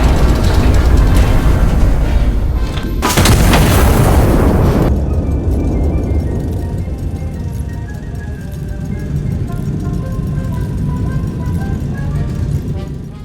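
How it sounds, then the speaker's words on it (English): An artillery rig in the video game Iron Nest fires a single loud, broad shot that cuts in abruptly and lasts about two seconds over a rumbling background, then fades to a lower sustained rumble. "you pull the big button in the middle and, well, yeah, close your ears because it fires loud"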